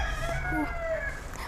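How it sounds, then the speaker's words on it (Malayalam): A rooster crows nearby in one drawn-out call with a rising then falling tone, heard over low background hum. "കോഴിയുടെ ശല്യം സഹിക്കാൻ പറ്റുന്നില്ല."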